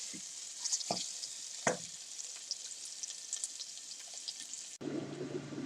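Onions frying on low heat in a pan for a potato and lamb curry give a steady soft sizzle, with a few stirring scrapes early on and a brief shift in tone near the end.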